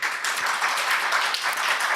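Gallery applause at a council meeting: steady, dense clapping from a crowd in a chamber, moderately loud and sustained throughout with no voices on top.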